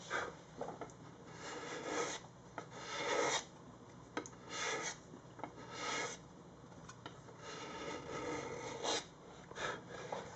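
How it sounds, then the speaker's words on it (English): A steel scraper blade drawn along the grain over the wooden body of a Les Paul guitar, giving a series of close, raspy strokes that rise and fall in an uneven rhythm with short pauses between passes. "I scrape with the direction of the grain."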